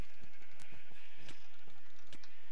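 Sheep bleating in Minecraft, several short nasal bleats scattered across a few seconds over a faint buzzing background, no speech.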